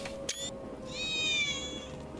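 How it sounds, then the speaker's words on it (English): A cat in the video game Final Fantasy VII Remake meows once in a long, drawn-out tone over a steady low hum, preceded by a brief short chirp. "That was definitely a cat."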